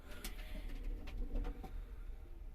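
Short-faced tumbler pigeons coo softly in a loft where squabs are nesting, with low murmuring calls repeating over a steady background hum.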